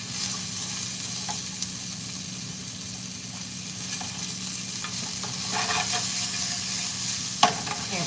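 Breakfast sausage frying and charring in a pan, a steady sizzle with occasional scrapes and clicks of stirring, one sharp clack near the end, and no speech.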